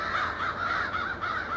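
Crows caw repeatedly outdoors in early spring beside a bonsai grove, a steady run of harsh calls at moderate distance with no talk over them.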